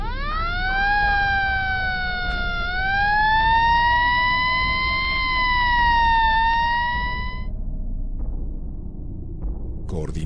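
An ambulance siren wails in a long rising and falling tone over a low rumble of traffic and street noise, then stops abruptly.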